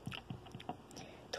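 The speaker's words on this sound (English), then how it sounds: "Ooh, this corn is so crunchy." Crunchy corn being chewed during a meal of pasta with hot sauce and bread, close and quiet, with several short crisp bites and munches spread across a brief moment.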